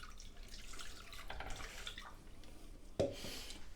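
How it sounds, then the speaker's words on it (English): Milk poured into a pan to make custard for a Bird's trifle, a steady soft liquid trickle with a brief louder splash near the end; no one speaks. "So I'll add the milk."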